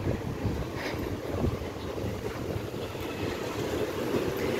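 Steady outdoor wind buffets the microphone as a continuous low rumble, a warm breeze blowing throughout with no talking.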